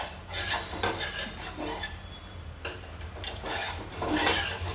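Oil spread around a hot iron griddle (tava) for a flour pancake, making a steady scraping, rubbing sound of utensil against metal throughout, with faint clinks and no talk.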